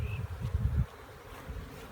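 Honey bees buzzing around comb from a swarm trap cutout, a close, low droning hum, strongest at first, then thinning to a softer buzz.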